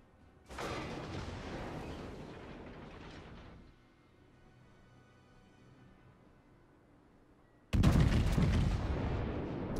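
Bismarck battleship main guns firing in World of Warships: a loud booming salvo with a long rumbling decay, a quieter lull, then a second heavy blast near the end.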